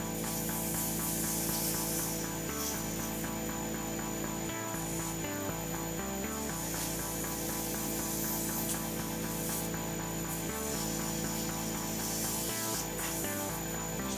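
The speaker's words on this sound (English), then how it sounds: "this sanding part's the long, slow process" A resin handle blank spins on a lathe while 150 grit sandpaper rubs against it, producing a loud, continuous hissing abrasion with a steady motor drone and brief dips where the paper lifts away, with no talking.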